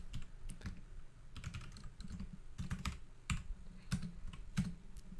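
Steady computer keyboard typing, close and fairly quiet, with irregular clusters of key clicks and a few sharper taps, with no talking over it.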